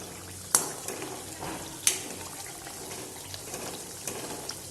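Homemade desi ghee simmering and being stirred in a pan, a steady low bubbling hiss with a couple of sharp spoon scrapes against the metal, close and fairly quiet, no talking.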